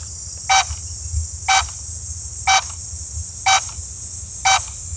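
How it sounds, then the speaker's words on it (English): Drone's Find My Drone alarm emitting five short, evenly spaced electronic beeps about once per second, sharp and fairly loud over a steady low outdoor rumble. "find my drone, start flashing and beeping."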